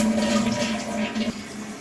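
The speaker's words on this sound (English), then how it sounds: "I'm going to flush this." A toilet flushes in a bathroom where it is being changed, a loud rushing swirl of water with a steady hum that cuts off abruptly near the end, leaving a softer trickle.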